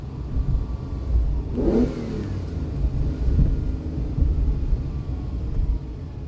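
A 1969 Ferrari 365 GTC engine revs and pulls through gear changes, a steady mid-range rumble with one brief rise in pitch partway through, heard continuously at moderate loudness without talk.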